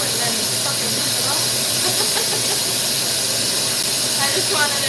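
A glassblowing torch flame roars in a steady, loud hiss throughout while a glass handle is reheated, with brief speech over the continuous rushing noise.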